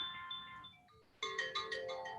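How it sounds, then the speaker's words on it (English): A phone ringtone plays as a melodic electronic tune, first with a softer run of tones and then louder repeated ringing bursts, with no talking. "we are hearing a ringing sound."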